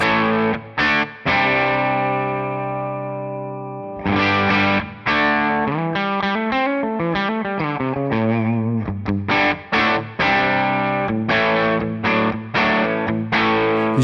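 An electric guitar on the bridge pickup runs through a Tonex amp model set at the edge of breakup, played as a series of picked notes and chords with slight grit, some of them ringing out and others cut short, loud and close with no talking.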